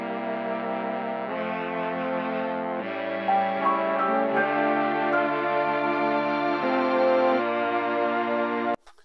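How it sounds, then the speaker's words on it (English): Mellotron string tones play sustained chords that shift every second or so, a smooth, slightly wavering layered string sound that continues without a break and cuts off sharply at the end. "So then it went to a mellotron."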